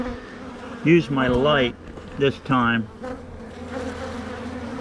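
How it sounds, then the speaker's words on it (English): Honey bees buzz in a steady low drone around a freshly marked queen at the hive, running constantly beneath a voice. "these bees all want to get around their mama, so they just keep getting in the way here"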